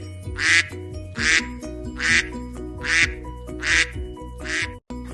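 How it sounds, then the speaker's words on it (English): Six loud, nasal duck quacks repeat in a steady rhythm close up, each a short bright burst over a low, constant background hum with faint music. "I'm a duck."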